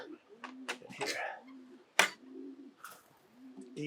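Pigeons in a backyard loft with nest boxes give soft low coos and brief calls, close by, broken by a sharp slap or wing clap and a few quiet voices.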